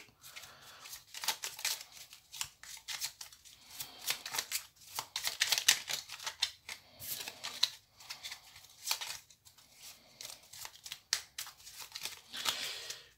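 Oracle cards are shuffled and cut by hand, giving a close, quiet run of papery riffles and slaps in uneven bursts, with no talking.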